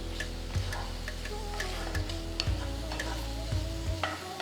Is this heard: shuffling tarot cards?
no